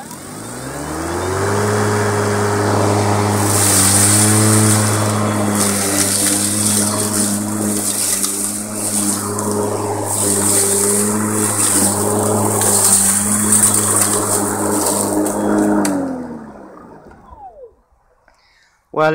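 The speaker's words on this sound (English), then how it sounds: "now I'll try and capture the sound of the motor straining a bit on this section of long grass here" A 36V battery-powered lawnmower motor runs through a patch of long grass, a close, loud, steady humming whine with slight pitch wobbles. It lasts about sixteen seconds, then winds down and fades to near silence.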